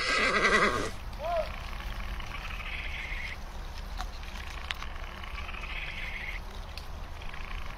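A horse gives a short, loud whinny right at the start, then falls quiet, leaving a low steady outdoor background with faint scattered high chirps.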